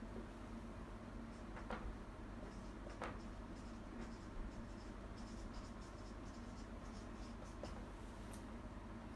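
Faint handwriting during a linear algebra lesson on vector spaces: soft, scattered scratches and taps of a pen or chalk stroke against a steady low room hum, with no talking.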